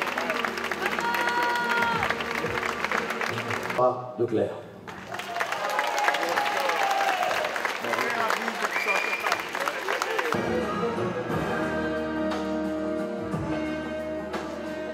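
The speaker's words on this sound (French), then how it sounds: "On peut l'applaudir." Audience applause and cheering ring out at a local beauty queen election, the Reine des Nieulles 2015, a crowd clapping and whooping under announcer talk and music, dipping briefly then swelling again.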